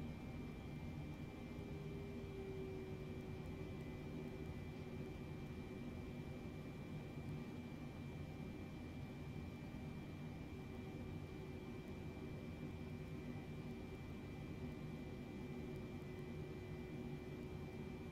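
An airliner takes off from runway 28 right at Chicago O'Hare, heard as a steady, muffled engine roar with a faint whine, constant and unbroken throughout.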